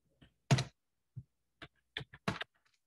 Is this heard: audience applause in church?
no